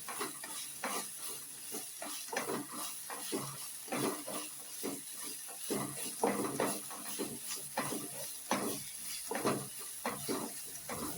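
Liver sautés in a pan for a liver fry, a steady close sizzle broken by repeated scraping strokes of a spoon stirring the pieces.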